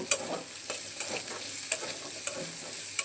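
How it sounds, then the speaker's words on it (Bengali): Boiled jackfruit seeds stirred and fried in a pan in a village kitchen, with soft sizzling under a run of light scraping and clacking stirs that come every half second or so. "এখন নাড়াচাড়া করে একটু ভেজে নিয়ে নামিয়ে নেব।"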